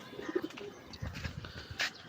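Pigeons coo softly nearby, a few low throaty calls with light rustling and a brief flutter near the end.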